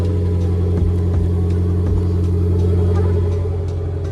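Infiniti Q60 Red Sport engine idling after a warm start, a steady loud low rumble with strong droning tones and a few small rev fluctuations, close by.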